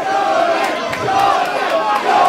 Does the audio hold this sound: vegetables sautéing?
no